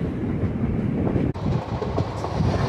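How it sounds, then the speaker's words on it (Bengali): Poorna Express passenger train running at full speed at night, a steady loud rumble of wheels and carriage with clickety-clack rhythm, briefly dipping for an instant midway, no voices. "আমাদের ট্রেন এখন ফুল 110-এর স্পিডে ছড়ছে"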